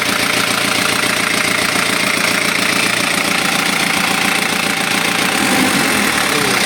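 Kia Pregio J2 3.0 diesel engine idling after timing gear work, a loud, steady clattering run with a rhythmic knock throughout, no talking.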